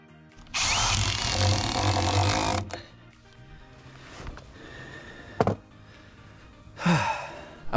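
A power drill drives screws into sheet metal on a DIY RV-to-cargo-trailer conversion, giving one loud, sustained whirring burst up close, then quieter shop noise with a sharp knock and a final short drill burst.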